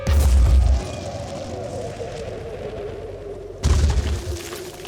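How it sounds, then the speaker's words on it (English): A grenade goes off in the video game Phoenix Point as a loud, close, low boom. A second heavy blast follows a few seconds later, with a murmur of game sound between them. "So let's try to hit a grenade between the two of them."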